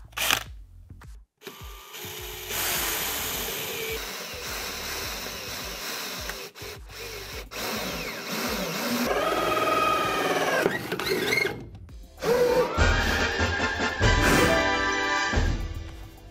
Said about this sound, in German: den Bohrer da einmal zu zentrieren und dann mit der Säge das Loch zu sägen